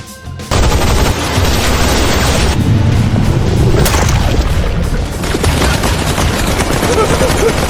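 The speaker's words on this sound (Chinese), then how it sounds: "全体开火！" Sustained volley of gunfire in an animated comic battle, a dense continuous roar of shots and booms from start to finish, loud and mixed with music-like effects.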